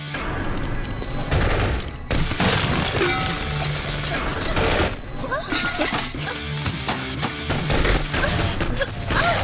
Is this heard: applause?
no